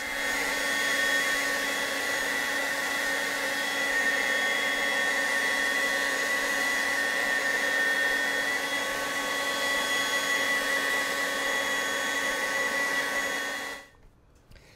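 A competitor's battery-powered leaf blower runs continuously at full speed, a loud steady whine with tonal harmonics over broadband airflow, then cuts off abruptly near the end.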